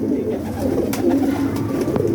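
Pigeon cooing from a prized bird on a rooftop pigeon-keeping loft, soft low coos repeating steadily over a few seconds at close range, with no talk over them.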